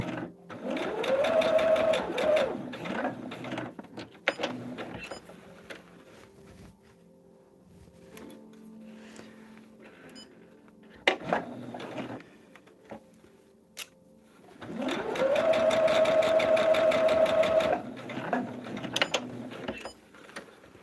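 A sewing machine stitching a quilted table runner whirs in two steady runs of a few seconds each, with a quieter mechanical pause and small clicks between them.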